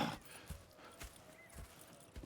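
Horse hooves clip-clop at a steady walking pace in Red Dead Redemption 2, with a few distinct dull thuds spaced about half a second apart over a quiet outdoor background.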